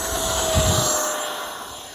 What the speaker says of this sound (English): we got the Freewing 90mm F4 on the runway, so let's go ahead and get it up